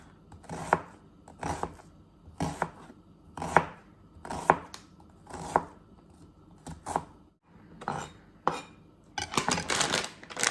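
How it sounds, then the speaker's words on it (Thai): Steady knife chops on a cutting board, cutting an onion into small pieces, about a dozen sharp strikes in an even rhythm, speeding into quicker clustered cuts at the end. "จะหั่นเป็นชิ้นเล็กนะคะ"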